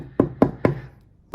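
Four hollow knocks on a children's replica Jaguar D-type car body panel ring out close and distinct, three in quick even rhythm and a fourth after a short pause.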